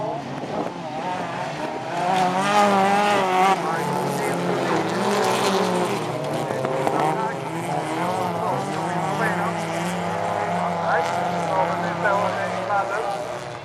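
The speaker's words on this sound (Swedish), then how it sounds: "Magnus Nilsson, där sladdar han ut lite för mycket och då tappar han några meter direkt" Rally race cars at the Ripa two-day event in 2011 drive and skid, engines roaring and revving loudly and continuously while a commentator talks over them.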